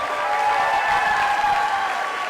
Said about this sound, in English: One last huge round of applause for our prom court and our seniors here in the auditorium tonight.